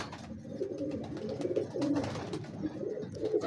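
A large, sturdy pigeon coos nearby in soft, repeated throaty phrases, with no voices over it.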